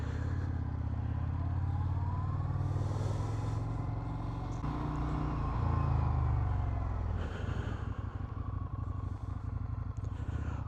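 Indian FTR R Carbon motorcycle riding through the Shenandoah area, its engine droning steadily and close with low rumbling throughout, rising briefly near the middle, with wind noise over it and no talk.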